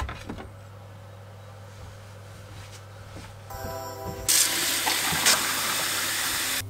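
Water is poured into drinking glasses inside a small camper van, starting as a faint trickle and swelling into a louder, steady splashing fill in the last few seconds over a constant low hum.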